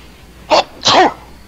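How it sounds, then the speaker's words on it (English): A single loud sneeze close up, with a quick sharp intake followed by the explosive burst, alone against near silence. "I'm apparently sneezing my brains out"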